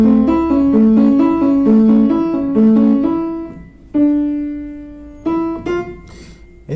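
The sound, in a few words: arpeggiated piano chords from the Gravity Falls theme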